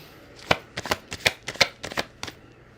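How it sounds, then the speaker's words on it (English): Tarot cards being pulled and shuffled by hand: a quick irregular series of crisp riffling flicks and snaps, close and distinct, with no talking. "let me pull 3 cards on that"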